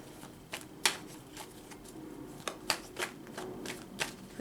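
Tarot cards being shuffled during a reading, a string of crisp riffling snaps and flicks at an uneven pace, close and fairly quiet, with no talking.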